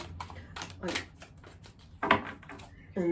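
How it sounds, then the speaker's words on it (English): Tarot cards being shuffled in bursts of papery riffling and slapping, with a person talking intermittently through it at close range. "I just want to grab a card or shuffle a card"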